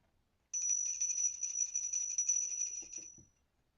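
A single small ritual bell rings out clear and sustained, a high bright tone that fades after a few seconds, in a quiet room with a few soft sounds near the end.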